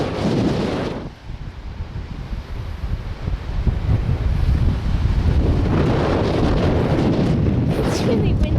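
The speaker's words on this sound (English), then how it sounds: "It's really windy." Strong wind on a sandy beach buffets the microphone with loud, rumbling gusts that swell and keep up throughout, over the faint wash of surf.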